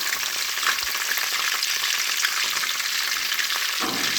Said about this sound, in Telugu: ఇలా పాన్లో కొద్దిగా ఆయిల్ తీసుకొని అందులో జీలకర్ర ఆవాలు ఒక ఎండుమిర్చి కొన్ని కరివేపాకు తీసుకోవాలి